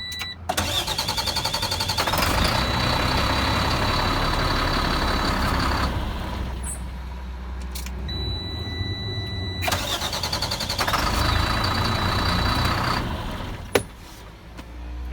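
A big truck engine cranks over quickly and fires up, running loud and close, then cranks and catches again after a short pause, with a brief clack near the end.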